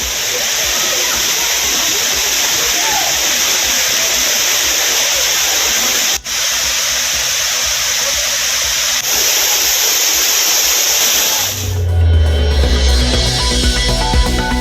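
Old Kuttralam waterfall, swollen by heavy inflow, gives a loud constant rushing roar of falling water for about twelve seconds before a sudden switch to a different, tonal sound.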